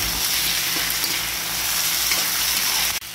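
Potatoes, green chilies and otenga fry in a pan with a loud, dense, steady sizzle that runs unbroken before dropping off briefly right at the end.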